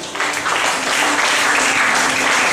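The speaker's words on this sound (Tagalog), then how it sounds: "Pumalakpak nga po." A church congregation applauds together during a sermon, a steady dense clapping that fills the room from start to finish at close range.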